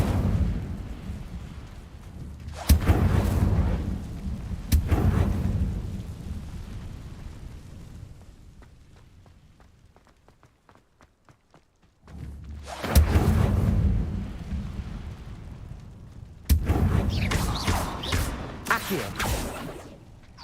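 Incendio fire spells cast in Hogwarts Legacy, heard as loud whooshing, explosive fiery bursts in several clusters separated by a quieter stretch, with near, crackling blasts.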